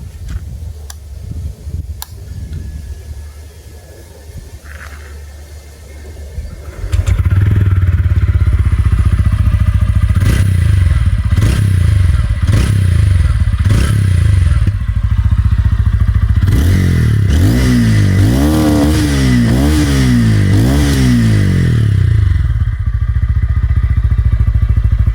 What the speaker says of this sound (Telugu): ఈ వెహికల్లో నాకు నచ్చింది ఏంటంటే బైక్ను రైడ్ చేసేటప్పుడు ఎగ్జాస్ట్ సౌండ్ కూడా వినడానికి చాలా